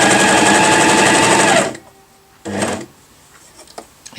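A Janome Cover Pro CPX 2000 coverstitch machine runs loud and close in a rapid, even stitching burst, then stops; a brief second short run and small clicks follow in quiet.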